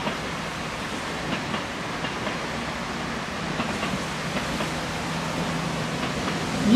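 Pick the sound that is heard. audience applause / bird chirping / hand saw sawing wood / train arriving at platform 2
train arriving at platform 2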